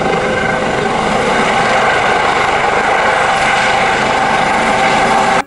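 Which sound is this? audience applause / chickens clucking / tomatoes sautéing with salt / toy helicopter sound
toy helicopter sound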